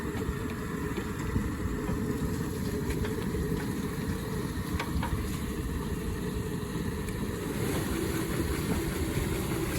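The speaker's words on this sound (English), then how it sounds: "Okay, so we're gonna put these in the plucker." A Yardbird chicken plucker machine running continuously, a steady mechanical rumble, loud and constant with a low drone and faint rattling throughout.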